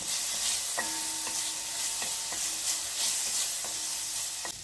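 Dragon chicken ingredients sautéing in a pan, a steady close sizzle with a few brief scraping stirs and light clinks over about five seconds, no voices.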